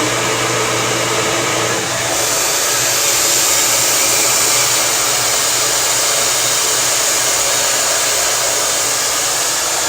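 A hair dryer blasts continuously as hair is blow-dried, a loud, steady rushing roar that stays close with no pauses or talking.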